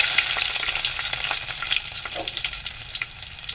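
Garlic, mustard seeds, cumin and curry leaves frying in hot oil, a close, continuous sizzle with crackles and soft stirring scrapes that ease slightly toward the end.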